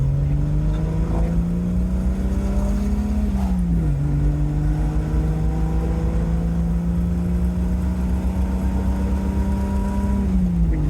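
A 1973 Triumph GT6 MK3 engine drones steadily from inside the car as it climbs a steep grade at around 50 mph. The pitch dips once briefly, then holds an even, loud tone.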